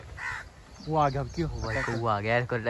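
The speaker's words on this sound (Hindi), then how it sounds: "ओ भाई कौवे आ गए कौवा आ गया" Harsh, nasal caws from crows in a tree during pigeon catching, close and loud, repeating over a couple of seconds while someone talks excitedly over them.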